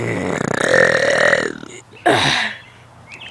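A loud, long, rumbling human burp is followed after a brief pause by a second shorter, forceful burp, both close and prominent.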